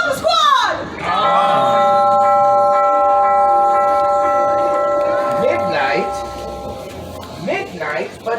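A gong rings out during an outdoor Christmas stage show at Stone Mountain Park, a loud, sustained shimmering tone that slowly fades, with crowd noise and voices around it.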